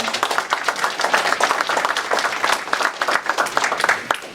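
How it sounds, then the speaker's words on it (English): Crowd at an outdoor Veterans Day ceremony applauding city firefighters and police officers who are veterans, loud irregular clapping close by, continuous for several seconds. "If we can give them a round of applause."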